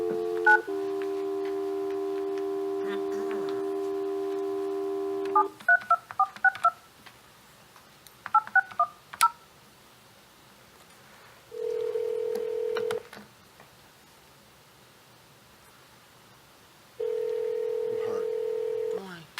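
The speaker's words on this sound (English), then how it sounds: "I would like to give Councilwoman Smith a phone call" Phone call placed from a township council meeting: a steady dial tone, then a quick string of touch-tone keypad beeps, followed by two long ringback tones with quiet gaps, heard over a faint room hum.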